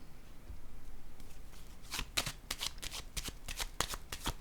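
Tarot cards being shuffled and drawn by hand, a quiet start giving way to a run of crisp, close paper riffles and flicks from about two seconds on, with no talking.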